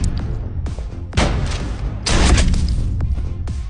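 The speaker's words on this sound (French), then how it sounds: "Les gardiens accoururent en entendant le coup de feu." Gunfire rings out in the action film Colombiana, several heavy cracking blasts with booming tails, loud and close, layered over tense background sound.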